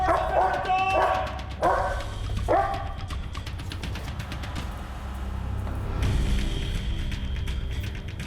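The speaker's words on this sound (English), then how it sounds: "Please, Roberto, send in the dog!" A trained scent-detection dog barks and yips in several sharp bursts up close, then whimpers, with people talking and moving around it during a training search.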